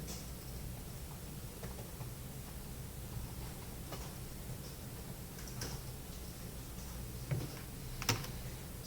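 A computer keyboard being typed on in a quiet room, with a few sparse, faint key clicks, including two slightly sharper taps near the end.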